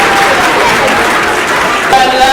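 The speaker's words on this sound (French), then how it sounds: "Applaudissons pour elle." A loud, dense burst of crowd clapping at a New Year's Eve Réveillon gathering in Canada, brief and close, with voices mixed into the wash of hands.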